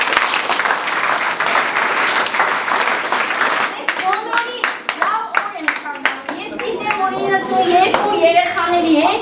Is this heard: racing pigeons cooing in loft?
no